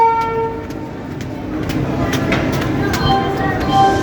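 A Vande Bharat Express train arriving at platform 10 of Secunderabad station, rumbling and clattering with sharp bursts of horn or announcement tones amid busy platform noise and nearby voices.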